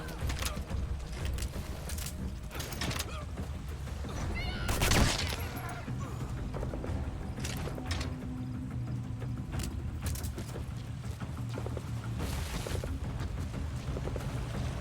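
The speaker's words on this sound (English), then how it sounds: "Was that an LMG that you had?" Light machine gun fire in Metal Gear Solid V comes as rapid bursts of shots, with sharp repeated cracks scattered through the clip over mechanical background noise and one louder burst near the middle.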